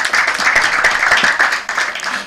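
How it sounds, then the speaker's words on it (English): Steady, dense applause from an audience at a Nigerian corporate sustainability report launch, many hands clapping continuously at fairly close range with no talk. "Please, let's give him another resounding applause."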